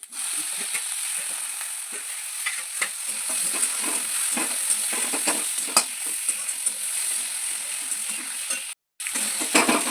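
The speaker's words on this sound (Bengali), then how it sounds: "ভালো করে নাড়া করার পর একটু ভালো ভাজা হয়ে গেছে এবার দেবো টমাটোগুলো" A spatula scrapes and stirs frying masala of ginger-garlic paste with tomatoes in a pan, giving a steady close sizzle with rhythmic scraping strokes throughout and a brief break near the end.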